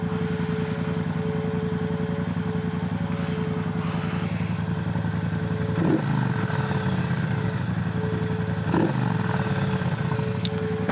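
A Triumph Bonneville Bobber motorcycle engine running at a steady idle, close and loud, with a continuous low throb and two brief swells as the throttle is blipped.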